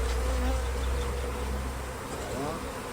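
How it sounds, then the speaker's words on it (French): Honeybees swarming around a hive being smoked while a plateau is installed, a dense close buzzing hum that stays loud and continuous throughout. "Donc là, j'en fume pour enlever le maximum d'abeilles."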